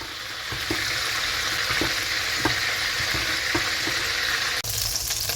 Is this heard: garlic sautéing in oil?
yes